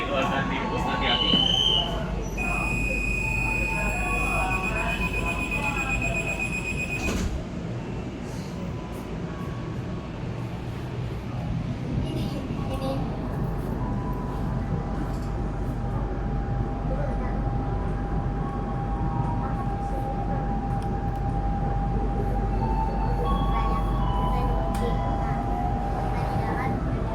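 INKA CLI-225 KRL electric commuter train, made in Indonesia, running on the line to Bekasi: steady loud rolling rumble and hum with a brief high tonal whine early on, a continuous cabin drone throughout, and voices heard over it.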